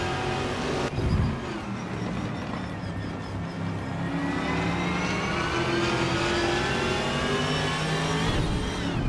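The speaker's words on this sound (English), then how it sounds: "the race kicks off at Zolder with Scuderia Veloce's 2021 Chevrolet Camaro taking the lead from pole position" Video game race cars, including a 2021 Chevrolet Camaro, run at Zolder, with steady loud engine drone and rising revs of several cars sounding together throughout the race start.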